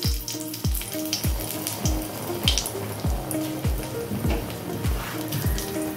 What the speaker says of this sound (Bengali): কড়াতে তেল দিয়ে লঙ্কা ভেজে নেব